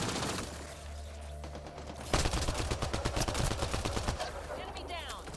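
Heavy-recoil weapon fire in Mass Effect Andromeda, a fast rattling burst of shots that picks up midway and runs to the end, layered over game sounds and a voice.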